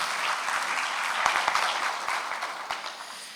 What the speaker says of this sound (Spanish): Yo creo que se merece un aplauso